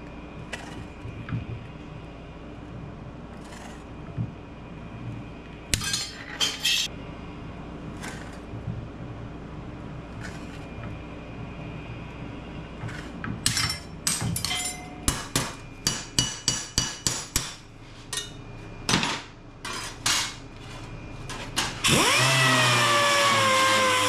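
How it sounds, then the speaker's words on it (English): Hammering on rusty metal patch panels for a 1936 Ford Roadster custom, a scattered run of sharp metallic blows that builds into rapid bursts, against a steady shop hum that swells into a loud, continuous roar at the end. "Get it hammered into this shape and trim it well together."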